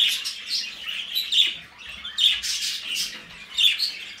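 Caged pet birds squawk and chirp close by, bursts of sharp calls repeating every half second or so with brief quieter gaps, no voices over them.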